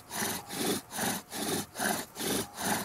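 Bow drill spindle rubbing in a fireboard for fire-making, driven by long bow strokes: a loud, steady back-and-forth rasping friction in even repeated pulses, about two strokes per second, close and alone.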